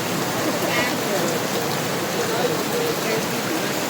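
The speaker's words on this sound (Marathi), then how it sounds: "आणि पाऊस बघा किती पडतोय इकडे, पूर्ण साचलंय पाणी त्या साईडला या साईडला." Heavy monsoon rain pours down steadily on a waterlogged street, a dense unbroken wash of noise that stays constant throughout.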